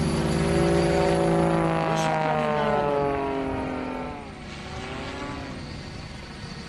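An aerobatic propeller airplane roars through stunts at an air show, its engine drone rising and falling with a sweeping pitch shift as it manoeuvres, while an announcer speaks over the loud, steady buzz.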